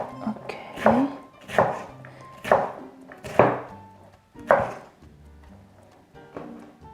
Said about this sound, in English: while we are cutting our cucumber